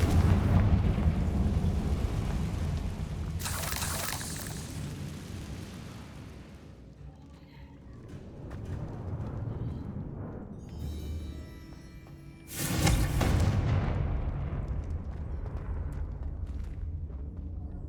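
Confringo fire spell explosion from the video game Hogwarts Legacy: a sudden loud burst of blast noise that decays into a rumble, with an earlier burst, over a low droning game ambience.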